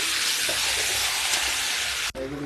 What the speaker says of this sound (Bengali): লাল করে ভেজে নেওয়ার পরে চিকেনটা আগের থেকে ম্যারিনেট করা ছিল, এখন চিকেনটা দিয়ে দিলাম। এখন ভালো করে নাড়াচাড়া করে নেব।